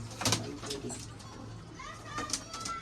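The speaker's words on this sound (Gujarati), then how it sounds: "જો બધાય મસ્ત મસ્ત કબૂતર છે" Pigeons coo softly in a loft or rooftop setting, a few low murmuring calls with brief wing flutters, fairly faint against background noise and distant children's voices.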